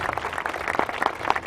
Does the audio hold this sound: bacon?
no